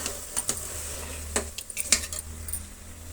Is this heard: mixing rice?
yes